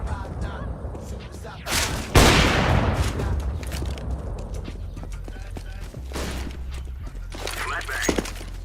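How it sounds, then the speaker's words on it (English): A flashbang grenade in a video game goes off in a sharp, loud burst with a hissing, ringing decay, set among scattered clicks, footsteps and other game effects while people talk throughout. "Flashbang"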